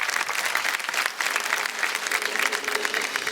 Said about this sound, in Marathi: एकदा जोरदार टाळ्या ताईंसाठी झाल्या पाहिजे.